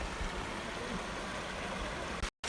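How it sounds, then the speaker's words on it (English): Steady rushing water from a small waterfall in Hell Valley, Noboribetsu, Hokkaido hisses and splashes continuously at moderate distance, then cuts out abruptly at the end. "There's a Hell waterfall."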